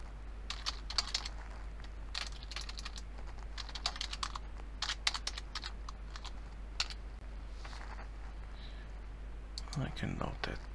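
Close-up computer keyboard typing comes in quick irregular bursts of clicky keystrokes, pausing briefly between runs, over a steady low electrical hum.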